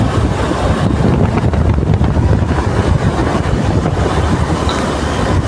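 Loud, steady wind rush buffeting the microphone, a constant roaring blast with low rumble throughout, recorded while riding a motorbike on winding village roads.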